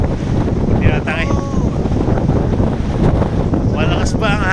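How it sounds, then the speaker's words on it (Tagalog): Strong wind gusting across an exposed hilltop campsite at Digos Hill during car camping, a steady loud roar buffeting the microphone throughout, with people talking briefly over it. "Lakas ang hangin dito."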